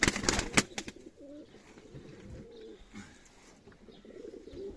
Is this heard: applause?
no